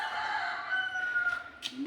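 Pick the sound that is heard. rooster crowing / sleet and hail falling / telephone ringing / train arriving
rooster crowing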